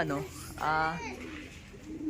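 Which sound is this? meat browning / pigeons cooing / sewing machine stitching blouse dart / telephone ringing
pigeons cooing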